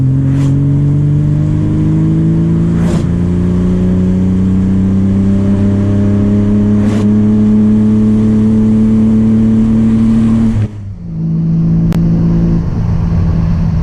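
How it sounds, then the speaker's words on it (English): A 120 hp BMW E30 pulls hard in third gear, its engine note climbing steadily and loud for about ten seconds, then the revs drop abruptly as the throttle is lifted, with no talking. "obviously a third gear pull, not very fast with only 120 horsepower or so"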